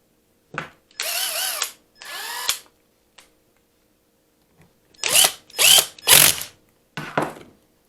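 A power driver runs Torx bolts into a 4-barrel Rochester carburetor during reassembly, with short whirring bursts in two groups, close and sharp, separated by silent pauses, no voices.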